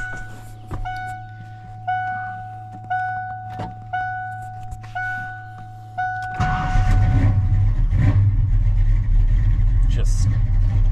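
A truck's fuel pump runs while a repeating chime sounds in steady pulses, then an engine catches and settles into a loud, rough idle.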